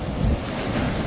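Sea waves surge and break on the beach along the Malvan coast of Konkan, a steady rolling wash of surf with gusting wind buffeting the microphone throughout, no voices heard.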